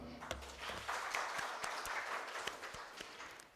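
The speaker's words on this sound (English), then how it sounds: "let's give them a clap" Audience at an international scientific conference clapping for a pair of presenters, a moderate, fairly distant spread of applause that holds steady for a few seconds before thinning out.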